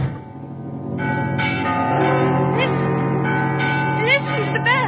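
Church bells ring continuously in a dense, sustained peal, with shifting overlapping tones and a few high sliding sounds near the end, loud throughout.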